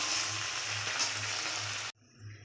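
Chopped coriander and curry leaves fry in hot mustard oil with a loud, steady, close sizzle that cuts off abruptly near the end, then returns more faintly.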